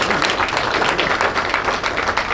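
An audience at a veterans service agency community outreach kick-off gives a dense, steady round of applause, close and fairly loud, that fills the whole short stretch.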